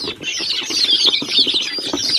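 Baby chicks and white turkey poults in a brooder pen, a dense continuous chorus of high shrill peeping from many birds close by, with faint rustling underneath.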